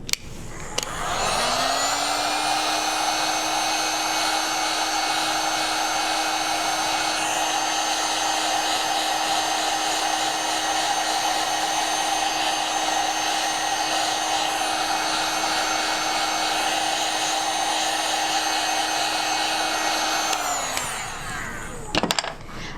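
Heat gun blowing a steady, loud, continuous hot-air roar while heating thermoplastic foam pieces for a creature costume, switching on and off cleanly with no talking over it.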